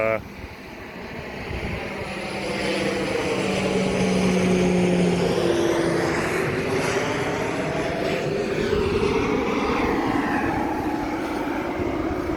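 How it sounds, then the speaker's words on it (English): A large propeller airplane passes low over downtown Hilo, Hawaii, its droning engines swelling and fading in a loud, continuous sweep that dominates the street sound, with people talking underneath. "That is an interesting plane. It's big like a jet, but it's got wings like a small personal plane."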